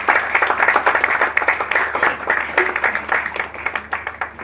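A short burst of applause from a crowd, many hands clapping steadily and briskly for a few seconds with no talking.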